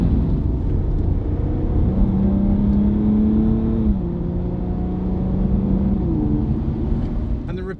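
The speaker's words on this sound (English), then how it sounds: "we'll drive this Rapide as we would do any other car, very responsibly for testing purposes." An Aston Martin Rapide drives on a road, its engine a steady close rumble with a tone that rises and shifts between gears as it accelerates, continuous throughout.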